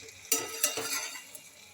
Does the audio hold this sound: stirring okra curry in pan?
yes